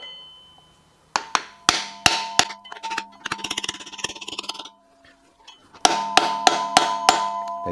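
Hammer striking a dowel drive pin into a Chevrolet LS3 engine through a block of wood, sharp ringing metallic blows in uneven bursts, some rapid light taps, close and loud.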